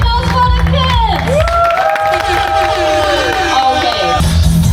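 An audience claps for children at a sandy beach gathering, the applause continuous and fairly loud throughout, with babble of voices and tonal sounds running alongside.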